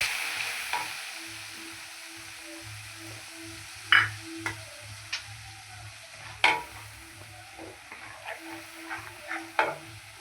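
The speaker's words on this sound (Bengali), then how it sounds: "মশলাটাকে কষিয়ে নেবো ভালো করে" A spice paste with turmeric, salt, sugar, cumin, bay leaf and ghee sautés in a pan for a cabbage and soya chunk curry, a low sizzle under irregular loud scrapes and clacks of a spoon stirring.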